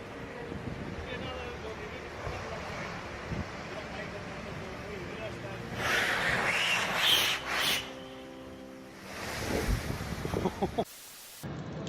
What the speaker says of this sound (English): The breakwaters of this pier in Spain are threatened by strong waves